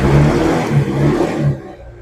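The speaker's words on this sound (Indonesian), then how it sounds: "Kita geber tipis." A used motorcycle with a stock engine and about 27,000 km on it is revved lightly, a steady close engine roar that rises and falls in a few gentle pulses before easing off.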